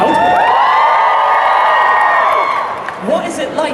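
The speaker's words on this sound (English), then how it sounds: "Let's make some noise, crowd." A crowd cheers and whoops in front of the live stage at MCM Comic Con London 2019: loud, sustained shouting from many voices that eases off toward the end.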